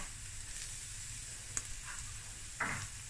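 Quiet, steady sizzling of onion and garlic frying in a pan, with a couple of brief clicks and a short hiss partway through.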